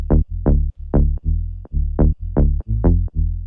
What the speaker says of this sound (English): I also added this small change in the notes of the bass in the drop